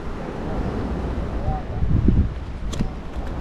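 Strong wind buffets a beach, rumbling and gusting close and loud, with a brief vocal sound partway through.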